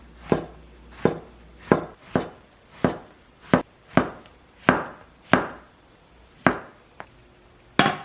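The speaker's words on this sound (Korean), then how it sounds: "표고버섯 싫으시면 다른 버섯 준비해 주시고요. 얇게 슬라이스 해줄게요." A knife thinly slicing shiitake mushrooms on a board makes about a dozen crisp, close chops in an uneven rhythm, with no talk.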